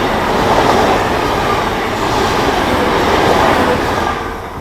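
A train rumbles steadily across a viaduct in miserable weather, wheels and wagons making a dense continuous roar that holds level and then fades slightly toward the end.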